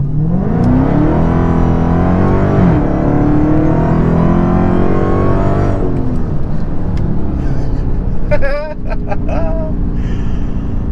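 A Dodge Challenger Hellcat engine with a JLT cold air intake revs hard through the gears, pitch climbing and dropping with each shift, a high supercharger whine riding above the roar, brief voices near the end.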